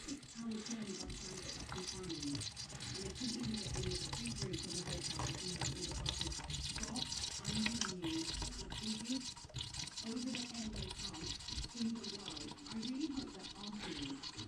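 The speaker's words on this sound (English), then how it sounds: "now what I'm going to do is just start pouring the oil in" Engine oil glugs steadily through a homemade funnel into a Mini Cooper R50 engine, a continuous soft liquid pour heard close and fairly quiet for the whole stretch.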